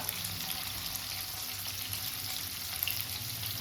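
Cauliflower and carrot pieces frying in ghee in a pan give off a steady, even sizzle with a faint watery hiss, close by and alone.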